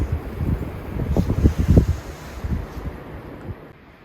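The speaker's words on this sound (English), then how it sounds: "it is still windy" Steady wind buffeting and rumbling against the microphone, gusting louder midway then easing off, with no voices.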